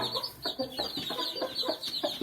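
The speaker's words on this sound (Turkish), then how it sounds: "genel olarak siyah ama çapar tavuğumuz var arkadaşlar" A black Çapar hen sits on her brood of chicks and gives soft, repeated clucks, with faint high peeping from the chicks. The sound is close and continuous and fairly quiet.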